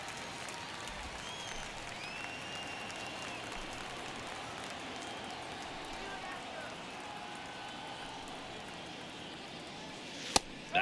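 Stadium crowd in the baseball video game MLB The Show 23, Seattle at Houston in a tight ninth inning, keeps up a steady, moderately distant roar and murmur, with one sharp click near the end.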